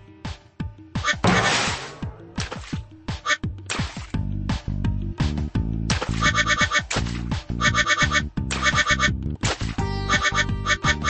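Rubber duckies being collected in a Bubble Guppies video game give rapid squeaky quacks and bright chimes over bouncy game music, with thumping and whooshing effects in a busy, layered sequence.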